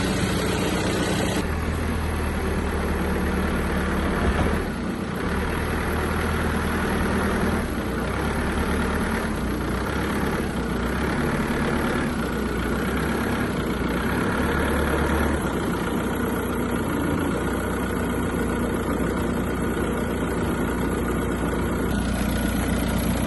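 VW Passat B5 Sport with a 1.9 TDI diesel engine running at idle, a steady, close, loud low-pitched rumble with a constant clatter that continues unchanged for the full length, with no voices.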